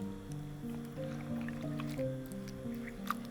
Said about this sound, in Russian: нам просто нужно хорошенько промыть картофель от лишнего крахмала.